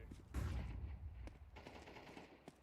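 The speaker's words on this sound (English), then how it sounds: "That's a Grenade." A deep booming grenade blast in a video game, followed by a rumbling decay with scattered crackles and a faint later thump, fairly quiet and without talk.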